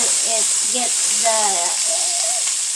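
Vegetables for a low-sodium Chinese-style curry sizzle steadily in a hot pan, a constant bright frying hiss under a person talking briefly.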